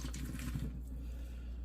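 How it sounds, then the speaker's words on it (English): A kitchen sink fills steadily from the tap while beer bottles wait nearby to be poured. The water runs as a constant close rush and lightens toward the end, with no one talking over it. "Since the sink's getting full, I'm going to have to start putting these on the counter back there."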